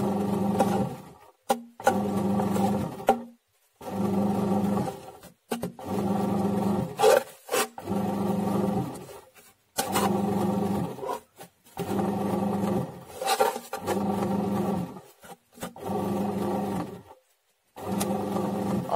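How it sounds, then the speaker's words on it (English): A bread machine kneads dough, a repeated mechanical grinding hum in regular bursts of a second or two separated by short pauses, loud and close with no talk. "I'll just let it knead and be back in a few minutes to push the rest of the flour in"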